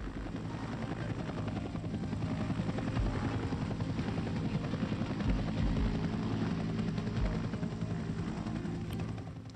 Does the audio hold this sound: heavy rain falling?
no